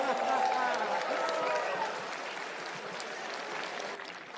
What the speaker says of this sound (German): wenn Eduardo Pedrosa gewinnt, dann ist der Applaus immer noch so ein Ticken lauter